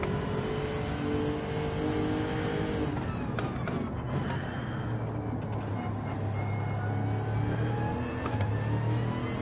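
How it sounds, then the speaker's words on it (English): A race car in a racing video game at Daytona accelerates hard toward the kink at night, its engine note climbing in a steady, loud drone with gear shifts and no voices. "Back in the throttle, heading towards the kink as fast as we can accelerate."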